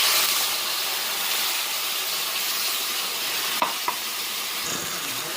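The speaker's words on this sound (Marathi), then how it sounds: "आता टाकून घेऊ पाणी." A crushed chilli and spice paste sizzles loudly in a pan after water is poured in, with a broad steamy hiss that slowly fades, broken by a couple of sharp utensil knocks near the end.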